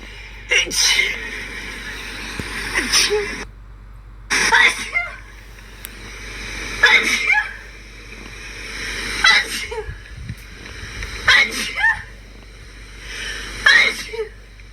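A long run of sneezes, one after another at roughly regular intervals, loud and close, with brief breaths in between.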